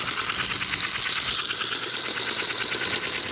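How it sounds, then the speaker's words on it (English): A three-rail model train's chuffing tender, where a gear shoves a piston in and out of an empty cylinder, gives a steady close-up mechanical hiss with a fast rhythmic chuff and light rattle, no talking. "turning a big ass gear to shove a piston in and out of an empty hole, and it looks like it's making a chuff sound"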